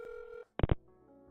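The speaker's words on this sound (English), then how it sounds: "Now the next time anyone dials the phone, it will place a new call to the pay-per-minute line." Telephone keypad dialing tones: a long steady tone, then two short distinct key beeps in quick succession, followed by a faint lingering hum.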